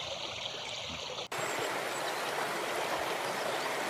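A river stream rushes with a steady broadband hiss and burble of flowing water, moderately quiet and continuous, briefly cut by a short gap.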